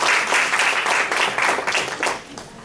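An audience at a pitch event in a fundraising training session gives a brief, dense round of applause for a speaker, fairly close and steady throughout.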